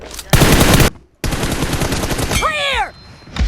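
Sustained automatic gunfire in PUBG Mobile, two loud bursts separated by a brief gap, followed by a whooshing sweep of tonal effects near the end.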